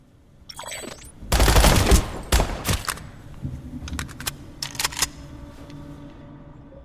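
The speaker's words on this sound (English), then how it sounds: "Try shooting some targets while aiming down sights." Aiming-down-sights shots at targets in the online shooter PlanetSide 2, loud bursts up front followed by a string of sharper, quicker reports, all alone with no voices.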